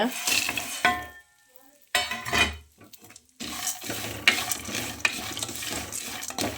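Peanuts with asafoetida and spices stirred in a pan for Congress-style masala peanuts, heard as bursts of close scraping and rattling with two brief pauses and a short, fainter sizzle.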